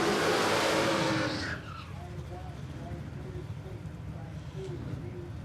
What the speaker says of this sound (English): Sean Deegan and Tirana, big burn out from him